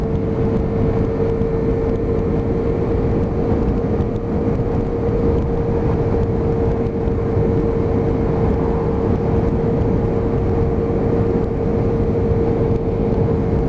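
A Hyosung GT125R motorcycle cruises at a steady 42 to 43 while being run in, giving a constant, loud engine drone with a fixed tone under heavy wind rush, unchanging throughout.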